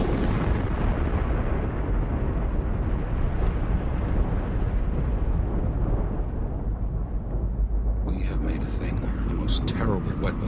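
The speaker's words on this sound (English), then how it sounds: "Less than a quarter of the weight of Ivy Mike, it would create the biggest explosion ever seen." A huge, sustained roar of a nuclear superbomb test explosion, the US Shrimp device, rumbles on for the whole stretch, with faint higher noises near the end.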